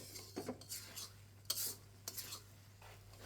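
Loitta shutki and green banana peel bharta stirred in a pan: faint, intermittent scraping and rubbing strokes of a utensil against metal over a low steady hum, several short bursts in an irregular rhythm, with no one speaking.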